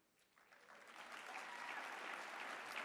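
A conference audience at CPAC 2020 breaks into applause, the dense clapping swelling from quiet to a steady, full wash of many hands, heard from a distance.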